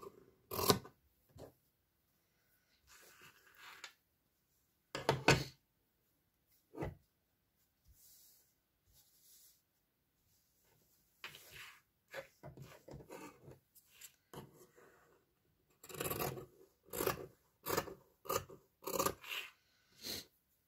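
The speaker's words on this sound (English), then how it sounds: "I will be cutting this into size." Scissors snip through fabric for a small lavender pouch, giving short, close rasping cuts in bursts separated by quiet pauses, with a denser run of quick snips near the end.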